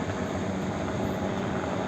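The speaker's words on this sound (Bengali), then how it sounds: "দেখা যাচ্ছে হেলিকপ্টার যাচ্ছে।" A helicopter passes over an Indonesian beach on the Indian Ocean, its engine and rotor blending into a steady, fairly loud wash of noise with no talk.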